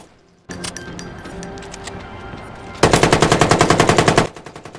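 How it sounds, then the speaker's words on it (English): Automatic gunfire in Watch Dogs: an initial stretch of scattered shots and engine noise, then a loud, rapid rattling machine-gun burst of about fifteen rounds that cuts off abruptly. "Let's see if I can shoot him."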